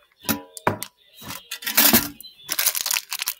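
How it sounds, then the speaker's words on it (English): Several sharp scissor snips and crinkly tearing bursts of plastic packaging being cut open, close and fairly loud, coming in uneven clusters with short pauses. "we're gonna go ahead and snip it open."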